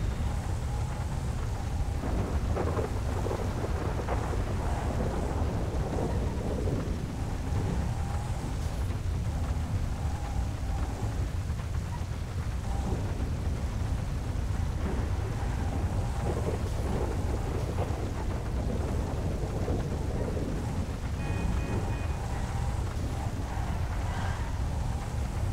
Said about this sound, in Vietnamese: Này trời mưa rất lớn luôn các bạn. Sấm chớp đùng đùng luôn á.